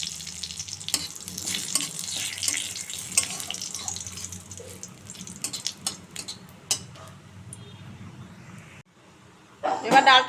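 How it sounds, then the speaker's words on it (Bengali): Dried red chilli, whole cumin and a bay leaf crackle in hot oil for a dal tempering, bursts of sizzling and utensil clatter up close, then a brief loud splash of liquid at the end. "তেলে একটা শুকনো লঙ্কা, জিরে, গোটা জিরে আর একটা তেজপাতা দেবো ফোড়নে।"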